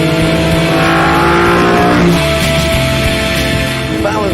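A car in the Top Gear studio accelerates hard on track, its engine revving loud and close with rising harmonic pitch and sustained roar throughout.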